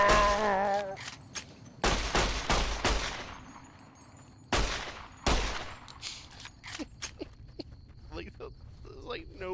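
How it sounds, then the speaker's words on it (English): Gunfire at a shooting range at night in Good Springs: loud, close shots in short clusters with gaps between them, a few quieter clicks and footsteps, and voices talking at low level underneath. "This is what happens at night at Good Springs when they have a few too many and just start having too much fun shooting"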